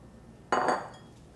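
A ladle clinks once against a pot of simmering budae-jjigae, a Korean army base stew, giving a single sharp metallic knock with a brief ring that fades quickly into quiet kitchen background.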